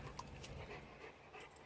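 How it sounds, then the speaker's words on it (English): A pet dog pants close by in a garden, a soft steady rhythm of quick breaths over faint outdoor background noise. "That's my dog."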